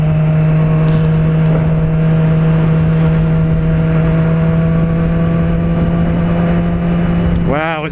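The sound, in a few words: 2016 Yamaha R6 motorcycle engine while riding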